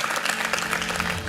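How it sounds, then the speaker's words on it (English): Audience applause at a plenary session of a business conference, a steady wash of clapping with a low hum beneath, brief and moderately loud. "A round of applause for them."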